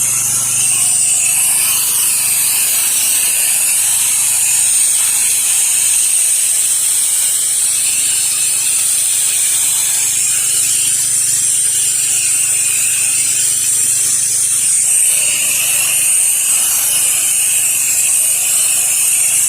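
Pressure washer rinsing down the outside of a small business building, a steady loud hiss of spraying water that runs without a break and stays close and constant.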